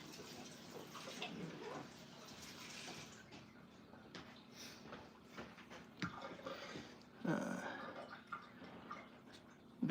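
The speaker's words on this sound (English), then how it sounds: "Just give this a little rinse here." Frozen cranberries being rinsed under running water, a faint, quiet trickle and splash with small drips and clatters that swell briefly toward the end.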